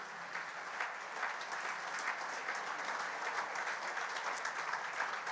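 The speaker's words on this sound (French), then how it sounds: "Applaudissons le Seigneur Jésus ce matin." Steady applause from a church congregation during a French-language worship service, dense clapping filling the room evenly and continuously from start to end at moderate level, with no voices rising above it.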